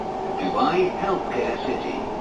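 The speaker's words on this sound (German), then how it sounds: "wir sind jetzt in der Bahn oder so, Trambahn, irgendwas, Metro" Dubai Metro train riding along, a steady close rumble of the carriage with wheel and motor noise, while a person talks over it.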